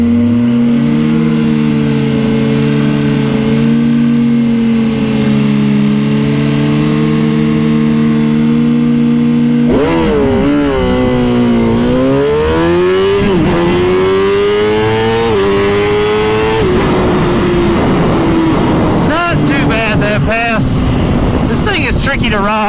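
A sport motorcycle idles steadily on a race track, then is held at 4,500 RPM and launched, its engine note climbing hard through rising revs and a shift before fading slightly as it pulls away. A voice murmurs faintly in the background.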